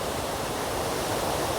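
Steady water flowing at Rajupalem waterfalls near Divili, a continuous broadband rush with no talk over it.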